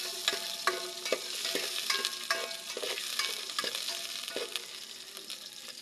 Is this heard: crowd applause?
no